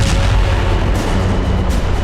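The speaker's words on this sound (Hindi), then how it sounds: "दक्षिणी लेबनान में इजरायली एयरफोर्स जबरदस्त बमबारी कर रही है।" Israeli air force bombardment in southern Lebanon: a loud, continuous heavy low rumble of distant blasts, with a couple of sharper bursts standing out through two seconds of rolling thunder-like booming.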